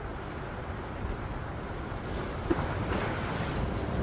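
Sea waves and swell washing against the shore at Old Colwyn, a steady broadband roar with wind buffeting the microphone, heard alone without voices.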